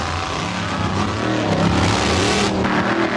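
Dodge and Chevrolet race cars roar side by side in a near dead heat at a nighttime race, a loud continuous engine drone with rising revs and no break.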